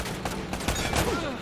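Gunfire in the video game Uncharted: Drake's Fortune, a dense fusillade of overlapping shots and bursts running throughout, loud and close, with a brief voice underneath.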